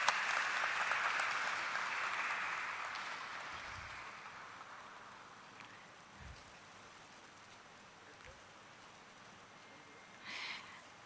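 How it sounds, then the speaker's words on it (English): Audience applause at a corporate event for Krssna Diagnostics, a soft, dense patter of many hands that starts fairly strong, then thins and fades to faint scattered claps, with a brief swell near the end. "Let's have a huge round of applause for him"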